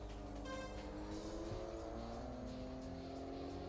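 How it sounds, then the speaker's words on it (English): Rotary-engined car in a PSP racing video game, a continuous high buzzing drone with layered whining harmonics and a slight pitch shift midway, steady and sustained without pauses, no talk. "rotary engines, they sound funny."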